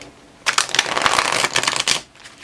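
An Ethereal Visions Illuminated tarot deck is riffled and shuffled up close, a quick burst of crisp flapping card clicks lasting about a second and a half, then quiet.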